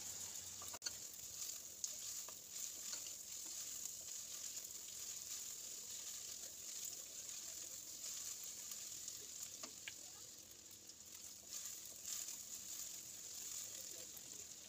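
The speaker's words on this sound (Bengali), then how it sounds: "পেঁয়াজটা কিন্তু অলমোস্ট ভাজা হয়ে গেছে।" Thinly sliced onions lightly frying in a pan, giving a steady, quiet sizzle that holds evenly throughout with occasional faint clicks.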